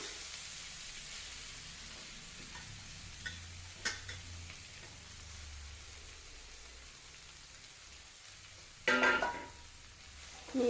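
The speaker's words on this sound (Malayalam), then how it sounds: "ചട്ടി അടുപ്പത്ത് വെച്ചു വെളിച്ചെണ്ണ ഒഴിച്ചു അല്പം ഒരു നുള്ളിൽ കടുക് പൊട്ടിച്ചു ആദ്യം നമുക്ക് മത്തൻ്റെ ഇല അങ്ങ് ഇട്ട് കൊടുക്കാം" Pumpkin leaves sizzle in hot coconut oil in a pan after mustard seeds have been popped, a quiet, steady frying hiss with a few soft clicks and a louder burst of crackling near the end.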